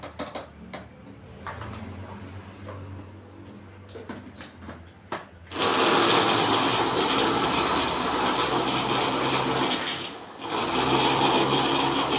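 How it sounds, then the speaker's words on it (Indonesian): An electric blender purées cooked chilies for sambal. Quiet kitchen clatter comes first, then the motor kicks in with a loud, steady whir, stops briefly and starts again close by. "Cabai mateng sama di blender dulu ya."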